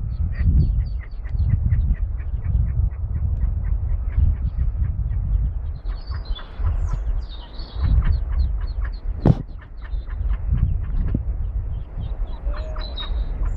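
Ducks from an animal rescue quack repeatedly as they head out for their first swim of the season, a steady run of short calls with outdoor background noise and no talk.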